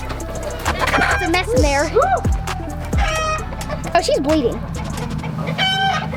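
Hens and roosters on a farm cluck and call up close, with several rising, warbling squawks and busy background clucking, while people talk over them.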